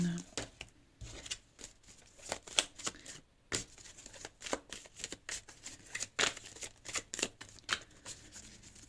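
Tarot cards riffled and shuffled by hand, then flicked and laid down, making a busy run of crisp papery snaps and slides close to the microphone, with someone speaking French intermittently over them.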